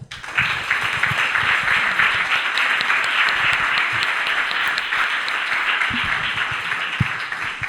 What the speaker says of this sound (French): je pense qu'on peut applaudir les speakers